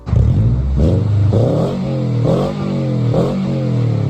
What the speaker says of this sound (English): But I understand because those unequal length headers have such a great sound.